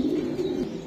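Racing pigeons giving a soft, low, rolling coo, close and brief, with no other sound over it.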